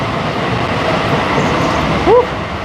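A high-speed train rolls along steadily with a constant low rumble and rushing noise, and a brief high squeal near the end.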